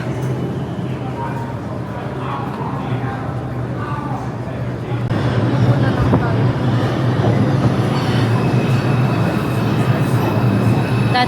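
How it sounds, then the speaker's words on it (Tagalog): New York City subway train rumbling loudly and steadily at close range, growing heavier partway through as it pulls in, with people talking faintly in the background. "That's the train."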